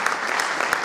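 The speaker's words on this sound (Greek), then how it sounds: "την κυρία Ρία Ζαβέντογλου, και σε αυτή ένα χειροκρότημα παρακαλώ" An audience at a tourism school event claps in a brief burst of dense applause, steady and moderately loud.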